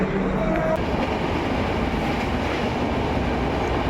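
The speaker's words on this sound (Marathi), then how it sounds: "आमची आता ट्रेन लागली आहे एकतानगरला जाणारी" Steady rumbling train noise at a station platform as the 12927 Dadar–Ekta Nagar superfast express stands ready, a continuous loud roar of rail cars with a brief high squeal early on.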